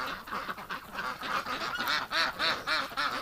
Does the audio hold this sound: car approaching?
no